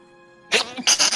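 A single sharp sneeze bursts out close and loud after a quiet moment, during an online Dungeons and Dragons session, with a short breathy follow-up.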